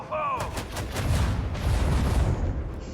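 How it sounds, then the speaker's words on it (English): A starship's artillery barrage in the video game Warhammer 40,000: Rogue Trader during void combat, a rapid string of loud booming shots that rolls into a heavy rumbling roar. "Launch barrage, port side."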